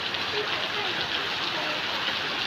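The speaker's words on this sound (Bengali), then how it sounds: "বৃষ্টি হচ্ছে এই মুহূর্তে, আপনারা দেখতে পাচ্ছেন আল্লাহর রহমতের বৃষ্টি" Rain falls steadily after a long dry spell, an even wash of pattering hiss with no gaps, and a faint voice beneath it.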